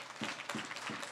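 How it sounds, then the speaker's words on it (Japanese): Warm applause from supporters of both teams at a women's football match between Ehime FC Ladies and AS Harima Albion, a steady, moderately distant patter of clapping. "両チーム詰めかけたサポーターから温かい拍手が送られました"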